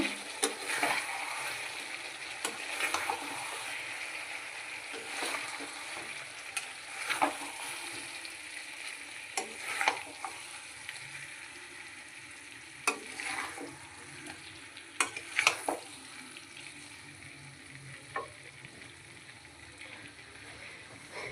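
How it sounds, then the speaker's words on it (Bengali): Chicken curry with potatoes cooks in oil in a pan while a spoon stirs it, giving a soft steady sizzle broken by repeated scraping and clinking strokes, fairly quiet and close, with no talking. "চিকেন দিয়ে কষা দিয়ে তেল ছেড়ে গেছে, এবার একটু নাড়িয়ে দেব।"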